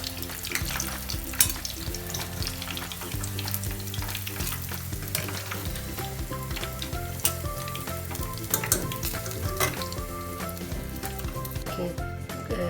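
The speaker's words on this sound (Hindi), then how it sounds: "अब इसको सुनहरे गोल्डन ब्राउन होने तक इसको हम फ्राई करते रहेंगे।" Chicken kachori deep-frying in hot oil, giving a steady, busy sizzle with light crackling that stays close and constant throughout, no voices present.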